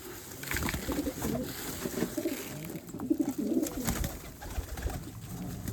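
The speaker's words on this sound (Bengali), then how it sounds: "খাবার জন্য কেমন কামড়া কামড়ি করছে আমার সকল কবুতর" Several pigeons coo close by in overlapping, throaty bursts while feeding, a busy, continuous flock sound with a few fluttering scuffles.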